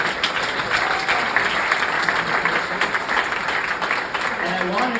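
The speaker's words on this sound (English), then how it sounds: "I'd like a round of applause for her bravery." Audience at a town hall meeting breaks into sustained applause, dense steady clapping filling the room from start to finish with a faint murmur of crowd beneath.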